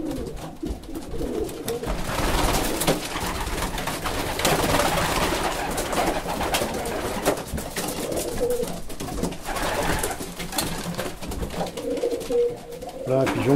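Pigeons cooing close by in a loft belonging to a French pigeon fancier, low repeated throaty coos mixed with rustling and handling noise, with people talking over them.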